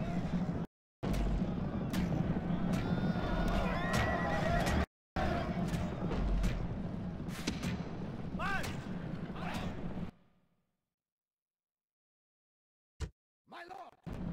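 Rome Total War battle soundscape with a horse whinny amid heavy rumbling combat, shouted commands and booming impacts, cutting abruptly to silence partway through before brief bursts return.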